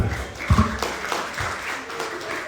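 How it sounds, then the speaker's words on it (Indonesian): Students at a school fellowship gathering clap their hands in a short burst of applause, with a few sharper claps close by standing out and some faint voices mixed in. "Woi, tepuk tangan."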